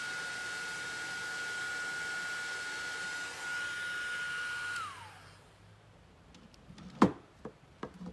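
A heat embossing tool blows hot air in a steady, loud whirring hiss with a faint high whine, then cuts off, leaving a few light taps and clicks close by.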